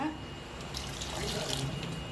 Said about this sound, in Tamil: இப்போ இந்த காய் வேகத்துக்கு தண்ணி ஊற்றி நல்லா வேக வச்சுக்கலாம்.